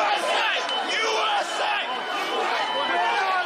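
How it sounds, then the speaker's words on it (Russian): A large crowd storming the US Capitol roars and shouts in a dense, continuous din of many voices, with chanting and yelling layered throughout. "Толпа пошла на штурм."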